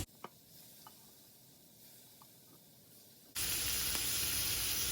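Shrimp hit melted butter in a pan and set off a sudden, loud, steady sizzle that fills the second half, after quieter kitchen sounds with a few faint clicks.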